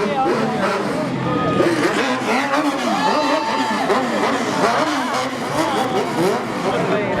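A car engine revving hard at a street race, loud rising and falling snarls close by, with a crowd murmuring and an announcer talking over it.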